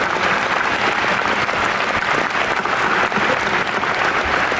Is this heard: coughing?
no